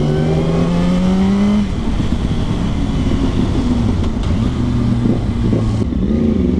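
A Yamaha R1 sport motorcycle engine runs loud and close while being ridden, rising in pitch under throttle, then settling into a lower, rougher drone with small revs and shifts.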